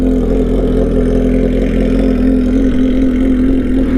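A Suzuki GSX-S 750 motorcycle idles after a cold start, a loud, steady, even engine drone close by, holding constant with no revving and no voices.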